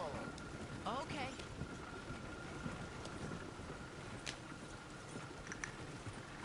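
Horse hooves clip-clop steadily on a road in Red Dead Redemption 2, mixed with rain-like background noise and occasional talk over the top.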